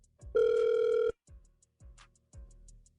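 A telephone call from a radio studio rings out to a listener: a long, steady ring tone is followed by a few short, quieter pulses and clicks on the line, with no one talking.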